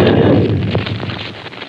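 A field artillery gun fires a single loud, booming round in the Watchung Mountains, a sharp blast at the onset followed by a long rumbling decay that fades over more than a second.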